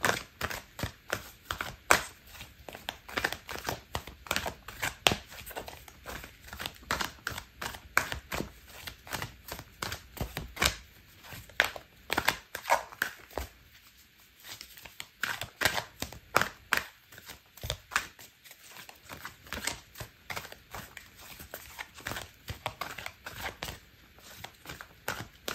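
Tarot cards are shuffled by hand in a steady run of crisp riffling and flicking, dense close-up bursts with a couple of short pauses and no talking.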